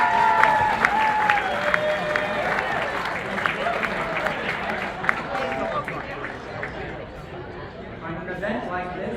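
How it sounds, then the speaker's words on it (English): Guests at a wedding reception applauding as a man is welcomed up, steady clapping mixed with crowd chatter and a speaking voice throughout, easing off toward the end. "Let's welcome him with a big round of applause"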